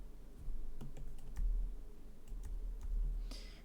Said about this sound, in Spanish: vamos a pulsar F9